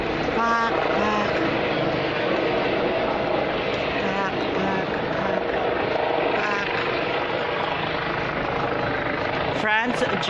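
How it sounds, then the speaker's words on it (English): A helicopter's steady rotor drone overhead in Vienna, Austria fills the clip under continuous talking, with a brief sharp noise near the end. "Susundan pa rin po tayo ng helicopter."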